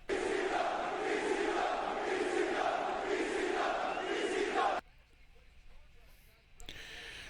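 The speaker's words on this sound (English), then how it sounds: "you hear this crowd?" A wrestling arena crowd at an AEW Dynamite show roars and cheers loudly and continuously, then drops away abruptly into a quieter stretch before rising again near the end.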